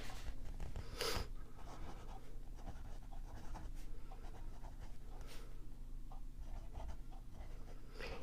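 A pocket fountain pen, used unposted and filled with Kaweco ink, writes on paper with a soft, continuous close scratching that runs steadily through the stretch with brief louder strokes, with no one talking.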